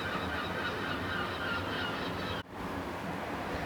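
Seagulls in Coleford in the Forest of Dean cry continuously in a dense, honking chorus, broken by one brief gap before the calls resume.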